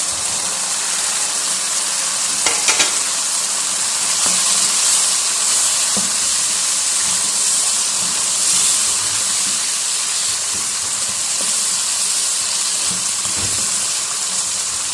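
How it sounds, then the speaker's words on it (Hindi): Cubed capsicum and onion fry over high heat in a hot pan, a loud continuous sizzle and hiss with occasional stirring clatters, no voices. "अब इसके अंदर हम शामिल कर देंगे क्यूब शक्ल में जो हमने शिमला मिर्च और प्याज काटा हुआ है।"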